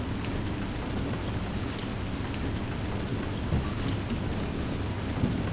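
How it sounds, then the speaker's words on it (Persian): Steady rain pours down in a thunderstorm, with low rumbles of thunder rolling underneath; a continuous, fairly loud wash of rainfall with no voices. "بارون گرفته."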